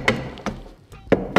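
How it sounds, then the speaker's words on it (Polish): A hammer lightly taps sheet metal chimney flashing as it is fitted against an EDGE FOLD chimney template: four sharp, close knocks in an uneven rhythm, two near the start and two near the end, with no talking. "Trzeba można doklepać lekko młotkiem."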